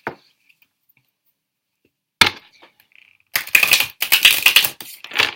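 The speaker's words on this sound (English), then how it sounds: "let me try shuffling that again." A deck of tarot cards is shuffled up close: a single sharp snap, a pause, then dense crackling riffle bursts in quick succession, crisp and fairly loud, with no talking.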